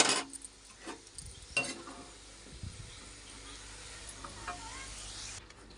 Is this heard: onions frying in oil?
yes